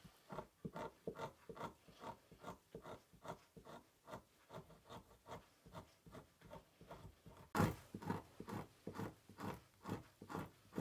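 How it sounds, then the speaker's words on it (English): The back edge of a knife scrapes a muskrat hide laid on plywood in steady, rhythmic rasping strokes, close and fairly quiet, about two per second, with one sharper knock near the end. "I'm using the back edge of this knife to scrape it down"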